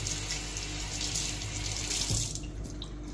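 Tap water runs steadily into a sink as fresh thyme sprigs are rinsed for Jamaican oxtail cooking, a close continuous splashing flow that eases slightly near the end.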